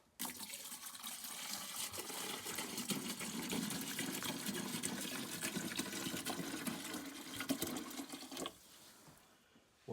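Liquid pours steadily into the washer fluid reservoir of a 1994 Mercedes C280 W202, a continuous splashing fill that runs close and even for several seconds before cutting off near the end.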